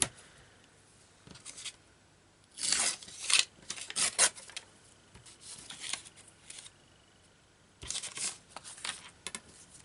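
Paper is ripped by hand at a craft table, tea-dyed paper torn in several short rasping bursts with quiet gaps between them, close up, with no talking.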